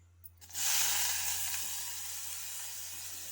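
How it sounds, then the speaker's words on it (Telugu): Green chillies and onions drop into hot oil in a pan and burst into a loud, close sizzle that fades slightly but keeps crackling steadily. "మిర్చి వేసి బాగా వేయించాలండి"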